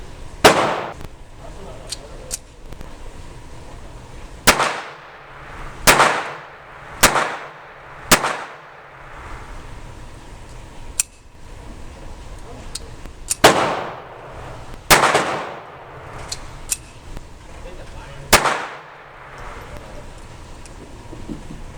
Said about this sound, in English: That first shot didn't have enough power to cock the striker, but the rest functioned perfectly.